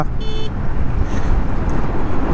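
A Suzuki Access 125 scooter with a 125cc engine pulls hard in city traffic, its engine buried in loud, steady wind rumble, with a brief horn-like tone near the start.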